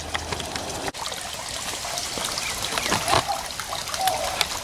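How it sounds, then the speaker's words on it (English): Water trickling and splashing in a backyard koi pond, a steady close babble of running water with light splatters and small gurgles, heard alone without speech. "come out here and just sit and listen to the water"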